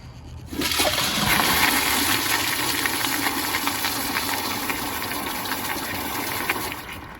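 A Kohler Sandbar Wellcomme toilet flushes with a weak swirl from a low tank, starting abruptly with a loud close-up gushing rush that holds steady for several seconds with no talk.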